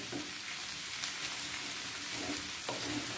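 Sabudana pulao with mixed vegetables being stirred in a pan, a steady soft sizzle with a few scraping strokes of the spoon, close and alone.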